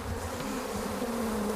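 Agitated Africanized killer bees at an aggressive hive give off a dense, continuous buzzing drone, close and unbroken, with no voices over it.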